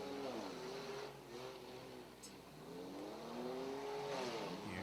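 Enduro race cars, some worn down, circle a dirt speedway at Airborne Speedway in Plattsburgh, NY, with a steady roar of several engines rising and falling as they bunch up, heard from a distance under a commentator's voice.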